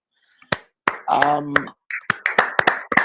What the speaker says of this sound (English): us clapping was a bit cringy